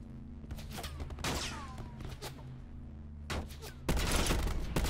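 Rapid bursts of gunfire from the Black Ops 4 Blackout battle-royale game, a quick cluster of shots early, then heavier sustained firing near the end, loud and close.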